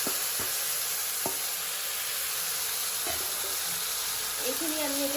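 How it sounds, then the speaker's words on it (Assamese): Marinated chicken pieces sizzle loudly in a hot kadai for a chicken aloo dum biryani, a steady bright hiss broken by a few sharp clinks of a utensil against the pan. "এই মাংসখিনি আমি কেৰাহীত দি দিম"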